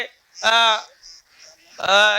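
Two loud, harmonic honking calls from ducks close by at a duck hatchery holding about 1,700 four-month-old vaccinated ducks, separated by a short pause with faint chatter in between.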